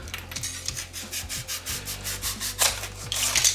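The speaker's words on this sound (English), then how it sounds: "And we'll scrape it off and cut it off." Dried sealant being scraped off a window with a slightly dull scraper, a series of rhythmic rasping strokes, close and moderately loud, with no talk.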